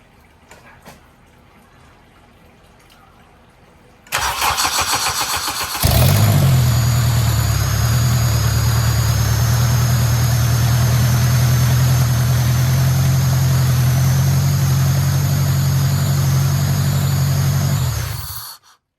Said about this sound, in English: we can at least hear it start up for like 2 seconds